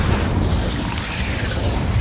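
The Incendio fire spell being cast in Hogwarts Legacy, a dense, roaring whoosh of flame like a sustained blast that fills the short clip at a steady, loud level.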